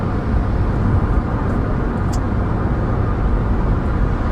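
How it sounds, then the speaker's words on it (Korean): Steady engine drone from inside a moving Chevrolet Spark on a highway, mixed with constant rushing wind noise at speed. "악셀을 좀 밟으면 엔진음이 좀 시끄럽게 들리긴 하는데 바람소리도 좀 많이 들리네요"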